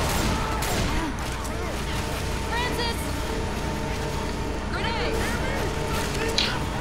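Sustained co-op gunfire in Left 4 Dead, a continuous dense fusillade of rapid shots under steady background noise, with voices talking over it.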